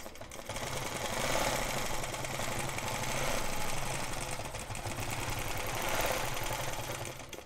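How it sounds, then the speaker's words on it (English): A sewing machine stitches a feather shape on a quilt against a quilting ruler, a steady close mechanical whir with fast rhythmic needle clatter running unbroken throughout. "now I'll be stitching until my needle touches the previous shape"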